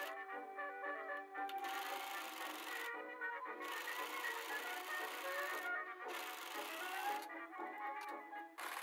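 A sewing machine stitches along fabric edges, its needle whirring in a fast, even mechanical buzz that runs in several sustained stretches broken by brief pauses, close and moderately quiet.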